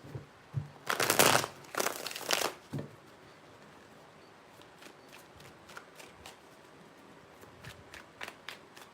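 Close-up tarot card shuffling: two loud riffling bursts near the start, then softer intermittent card handling and light taps, with no talking.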